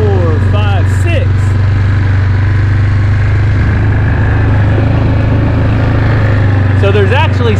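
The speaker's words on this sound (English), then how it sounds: "So there's actually 6 tractors going at once" Six farm tractors running at once, a steady loud low diesel drone with overlapping engine hum throughout, while people talk at moments over it.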